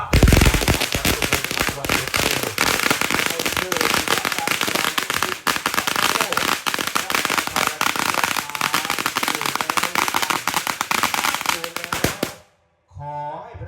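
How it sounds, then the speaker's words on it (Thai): A long string of firecrackers goes off at a Thai Ganesha worship ceremony, a loud, dense crackling barrage for about twelve seconds that stops abruptly, followed by faint voices. "ประทัดงานบวงสรวงนะคะ"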